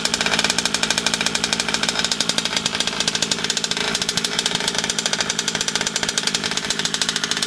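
A small gas engine of a fifth-scale RC car, being broken in and running rich, runs continuously at a fast, rough, rattling idle, a steady buzzing chatter close to the microphone, with no voices.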